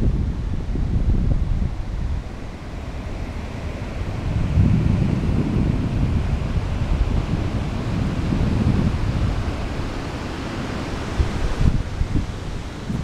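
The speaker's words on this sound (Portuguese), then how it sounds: "é uma praia onde se criam muitas ondas." Ocean waves breaking at Costa da Caparica beach in Portugal, a loud continuous roar of surf with swelling surges and wind buffeting the microphone throughout, no voices.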